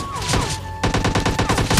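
Gunfire aimed at the player in BGMI Lite, bursts of close, sharp shots crackling in quick succession, pausing briefly before a fresh volley of rapid reports.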